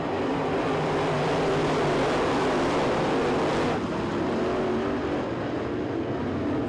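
Race cars in a B-Main heat at a winter nationals race meeting run down the back straightaway, heard as a dense, continuous engine roar that holds steady and loud throughout.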